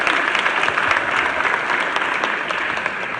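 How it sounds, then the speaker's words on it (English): A concert audience applauds the African Children's Choir as they leave the stage, a full, continuous roar of clapping at strong, even volume throughout. "Please clap for them as they go and as you take your seats."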